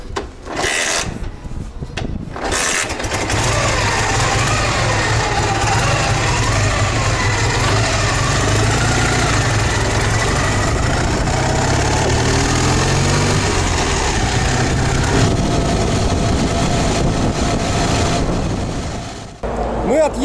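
A car fitted with a replaced main carburetor fuel jet pulls away from a gas station. Its engine drones loud and steady at close range for nearly twenty seconds after a brief rustling start.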